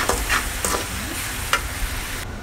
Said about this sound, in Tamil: இப்போ வந்து தக்காளியும் உப்பு போட்டு நல்லா வதக்கிக்கலாம்.